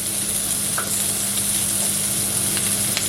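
Shrimp sear in a hot pan with a steady, close sizzle and a few small pops and scrapes, heard alone for a few seconds.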